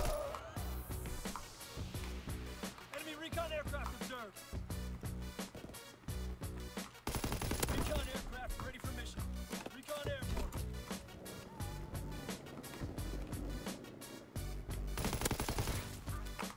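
Assault rifle fire in the Call of Duty WW2 video game, with dense repeated bursts of automatic shots and game effects throughout, loud and close, while players talk over the action.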